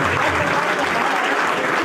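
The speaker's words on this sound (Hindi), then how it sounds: "श्री सदानंद सेठ तनवाड़े जी का जोरदार तालियों के साथ स्वागत करें।" Steady, dense clapping from a large audience, loud and continuous throughout with no pauses.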